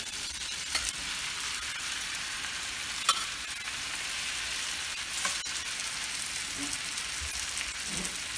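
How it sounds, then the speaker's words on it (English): Meat mixture for Philly cheesesteaks frying with caramelized onions in a hot pan, a dense continuous sizzle with occasional scraping stirs and small pops, close and steady with no talking. "we're going to add our meat mixture to our onion mixture"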